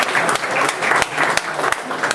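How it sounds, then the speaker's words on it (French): An audience at a Java EE tech talk applauds loudly, a dense burst of clapping from many hands at close range, with a few sharper claps standing out. "Et voilà, bravo, on applaudit très fort."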